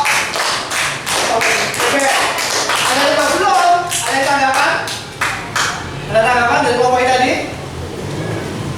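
Classroom applause for a group of fourth-grade pupils during an Indonesian-language lesson: a steady run of close, sharp claps and taps lasting several seconds, mixed with children's and a teacher's voices talking over it.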